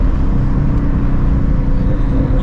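Shelby GT350 with catless long tube headers, X pipe and E85 fuel, accelerating under a feathered throttle, giving a loud, steady, close engine rumble with a dense low drone and no speech over it.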